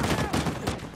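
Turret gunfire in the video game Uncharted 4, a loud close burst of rapid shots packed into a dense rattling volley with no gaps, heard alone.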